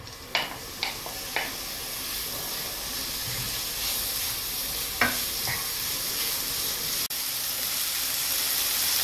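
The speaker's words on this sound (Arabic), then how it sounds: "خليهم يسخنوا مليح مليح ونبداو نقليو الدجاج تاعنا عادي" Chicken frying in hot oil in a pan, a steady sizzling hiss with a few sharp stirring clatters and spits near the start and middle, close and fairly quiet.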